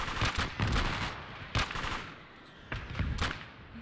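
Repeated gunfire in a Gates of Hell video game firefight, with several sharp bursts and single shots spaced irregularly over a continuous battle din, fairly loud and close.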